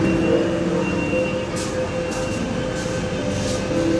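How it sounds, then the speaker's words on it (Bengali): A Kolkata Metro train rumbles steadily with low, continuous mechanical noise and brief high hissing bursts as it pulls into a station. "এসে গেছে আমাদের মেট্রো"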